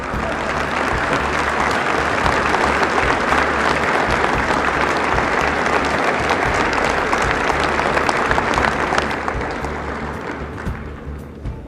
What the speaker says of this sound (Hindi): इसमें तो ताली बजनी चाहिए ना भाई।